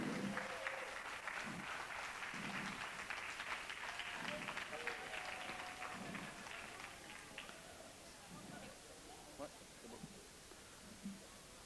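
A church congregation applauds in a broad, steady wash of clapping that fades over the final seconds, with voices murmuring underneath.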